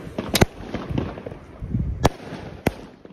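An Argento Smaragd firework cake fires gold effects outdoors, sharp launch thumps and crackling bursts popping irregularly at moderate distance, with several loud cracks spaced across a few seconds.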